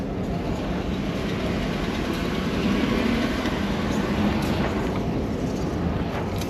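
A train rolls past nearby, giving a steady, loud rumble with an unbroken rushing roar and no voices.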